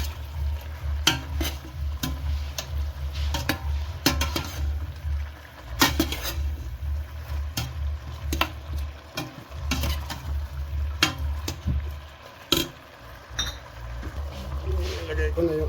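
Food fries and sizzles in a pan as it browns for a budget home recipe, with stirring scrapes and clinks of utensils against the pan throughout, close by.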